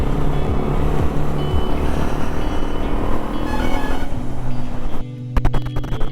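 Busy road traffic near Hosur, with a steady rumble of engines and honking from cars, trucks and two-wheelers close by, then a sudden break into sharper, choppier bursts of vehicle noise near the end.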